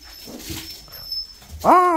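Puppies whimper, with faint soft shuffling sounds followed by a loud, close, high-pitched whining whimper near the end.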